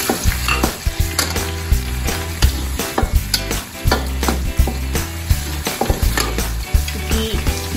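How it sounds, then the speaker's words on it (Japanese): White parts of green onion stir-fried with garlic in a pan: a loud continuous sizzle punctuated by rapid, irregular scraping and clacking of a utensil against the pan, no voices. "少し炒めます"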